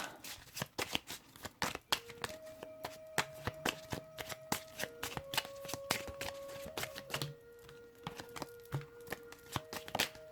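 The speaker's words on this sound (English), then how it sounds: "so I'm going to take the 10th card" Tarot cards are shuffled and drawn in a quick run of crisp riffling flicks and soft slaps for about ten seconds, close and fairly quiet, with a faint steady musical tone beneath.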